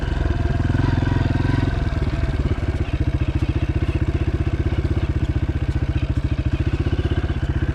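A small dirt bike engine, a KLX400R or CRF230F, runs nearby with the choke on, chugging at a fast, even, pulsing idle with a rougher burst early on.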